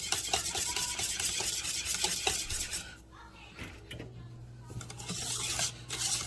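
A spoon scrapes and clinks around a pot of candied yams seasoned with allspice, busy metallic stirring up close that eases into quieter rubbing, with a faint low hum and sizzle beneath.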